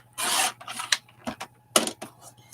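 Wood carving trimmed down by hand gives short rough rasping strokes, close up. Several uneven bursts are separated by brief pauses.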